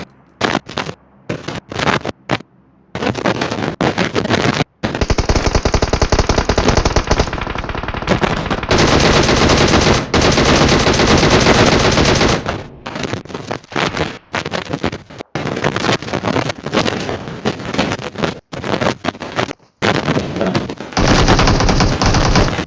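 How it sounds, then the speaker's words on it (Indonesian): Loud, rapid bursts of automatic gunfire from people shooting, with long sustained volleys broken by short gaps and scattered single cracks, close and harsh throughout. "itu dulu orang nembak"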